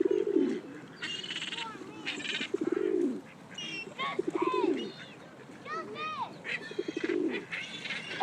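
Pigeons or doves cooing at a lake, repeated low throaty coos in close, uneven bursts with some chirps and wing flutters, with people talking nearby.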